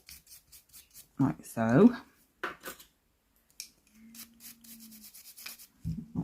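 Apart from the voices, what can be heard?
rough brush dusting excess glitter off swatches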